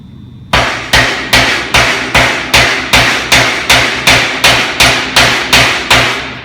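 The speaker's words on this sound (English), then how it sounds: "get my hammer immediately and start pounding" A hammer strikes heated metal in a steady, even rhythm, about a dozen loud ringing blows close by with nothing else heard, upsetting the metal in sculpture work.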